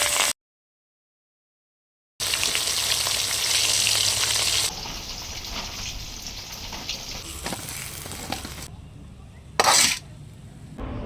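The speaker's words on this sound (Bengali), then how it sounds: "আমি কিন্তু আর এক খোলা মাছ ভেজে নেব।" Catla fish fries in hot oil, a loud, close, continuous sizzle that starts abruptly after a short silence and eases somewhat midway, with a few clinks of a utensil near the end.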